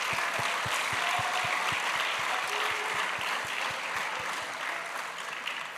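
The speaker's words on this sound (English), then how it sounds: "can you put a round of applause for Taz and the team?" A room full of people applauds at a university sports awards ceremony, with a steady wash of clapping and several sharp, closer claps standing out rhythmically.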